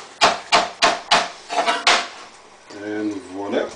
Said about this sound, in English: We'll chop them.